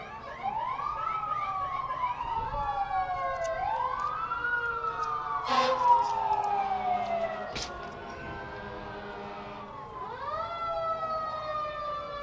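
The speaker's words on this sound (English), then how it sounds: "So we hear the sirens coming up" Police sirens wail in repeated rising and falling sweeps at a Martin Luther King Day parade, loud and fairly close, with a few sharp bangs and crowd noise beneath.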